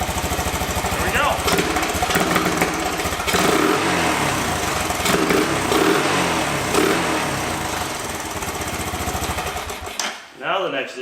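An old Honda three-wheeler engine idles close by with a steady, rapid putter that holds smooth for about ten seconds before cutting off abruptly.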